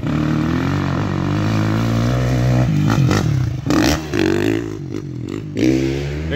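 A dirt bike engine at the Muddy Waters motocross track drones steadily, then revs and wavers as the bike rides past close by. Shifting throttle bursts follow toward the end.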